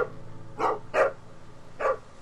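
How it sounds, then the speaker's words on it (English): A dog barks in the video game The Walking Dead Season 2: three short, sharp barks close up, the first two quick together and the third after a pause, over a low steady hum. "that's why he's barking like that."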